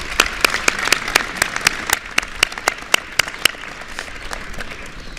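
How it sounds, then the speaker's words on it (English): Audience applause at an event honoring military families, a dense burst of clapping from a crowd, loud and close, with sharp individual claps standing out before it tapers slightly toward the end. "we need to give her another round of applause."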